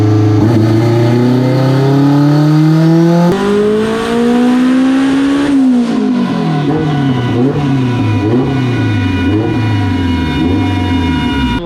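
A turbocharged Honda H22-powered EK hatchback revs hard on a dyno, loud engine pitch climbing through gears with abrupt shifts and a brief drop before climbing again, close and continuous.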